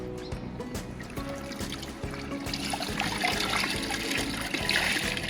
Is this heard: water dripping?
yes